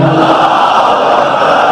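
A large crowd at a majlis religious gathering chants the takbir slogan in unison, a loud, dense wall of massed voices that holds steady for the whole stretch with no single speaker standing out.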